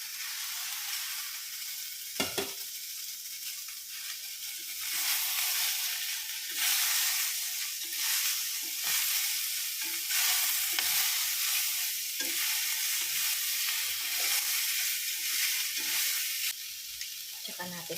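Tofu being stir-fried with garlic sprouts in a hot pan, a loud steady sizzle and hiss with repeated scraping stirs of the spatula throughout, a sharp clatter near the start and brief bits of talk underneath.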